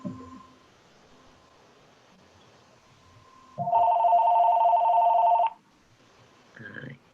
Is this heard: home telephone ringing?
yes